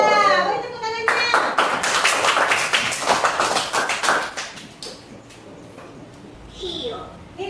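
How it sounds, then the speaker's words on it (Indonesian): A group of people clapping hands in a classroom lesson, a dense burst of applause near and loud for a few seconds, then fading into softer room noise with a few voices. "Beri tepuk tangannya"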